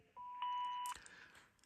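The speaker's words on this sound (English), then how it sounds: "Start recording beep was announced to both ends of this call" A Panasonic phone system plays its start-recording beep: a quiet, clean steady tone that steps up to a higher pitch, then fades away over a near-silent line.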